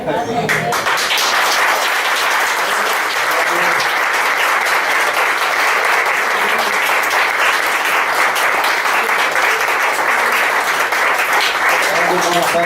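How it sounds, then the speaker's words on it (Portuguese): A church congregation applauding steadily, a loud continuous wash of clapping from many hands that holds for over ten seconds with little change. "tá bom essas palmas, mas para Jesus tá fraco"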